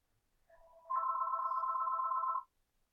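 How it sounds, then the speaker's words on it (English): A single telephone ring sounds alone in a quiet room, a steady electronic trill lasting about a second and a half, clear and close, with nothing else around it. "Stupid phone."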